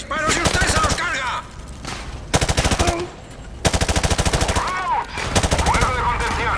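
Bursts of suppressing automatic gunfire in the Call of Duty: Modern Warfare 2 remastered campaign, loud rapid rattles in several volleys with brief pauses, voices and game sounds mixed underneath.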